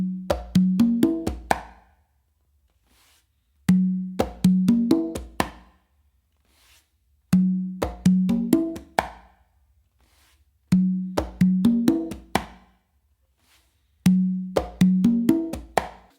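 Congas carry a repeating bossa nova pattern in four short bursts, each a quick run of crisp open and muted slaps and tones separated by pauses, played close and alone.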